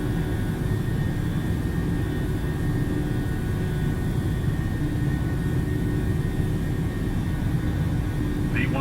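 Jet airliner engines roar during the takeoff roll from Minneapolis–St. Paul, a loud, steady, broadband rumble filling the cabin throughout, with a brief faint chirp at the very end.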